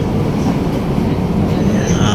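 Inside a moving LRT light rail train, a loud, steady low rumble of the carriage fills the space from start to finish.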